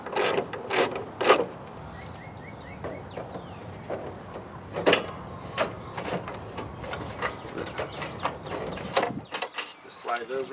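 Bolts being tightened by hand on an aftermarket front bumper of a John Deere riding lawn tractor, giving repeated close metallic clicks and ratcheting bursts, with brief talk in places.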